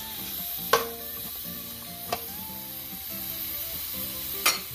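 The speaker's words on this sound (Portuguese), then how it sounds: "Vou fritar o bacon nessa panela." Bacon fries in a pot on a wood-burning stove for a Brazilian feijoada, a steady close sizzle and crackle with three sharp metallic clanks of a utensil against the pot and no talking.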